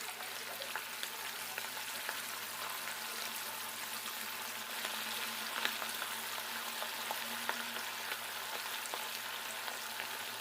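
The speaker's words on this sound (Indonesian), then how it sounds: "Setelah minyaknya panas, pastikan benar-benar panas, kita goreng gepuknya." Steady, dense sizzling and crackling of seasoned beef (empal gepuk) frying in very hot oil, with scattered louder pops throughout.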